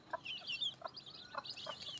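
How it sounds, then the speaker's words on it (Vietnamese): Newly hatched F1 jungle fowl chicks chirping in a brood of thirteen, with repeated high-pitched peeps and short calls overlapping close by at a steady, busy rhythm. "Hôm nay thì mình lại quay một lứa gà ép, một mới nở"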